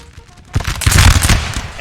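Grenadiers fire a musket volley in the Napoleon: Total War strategy game, a dense crackling burst of many shots that erupts after a quiet half second and rolls on loudly, with voices audible underneath.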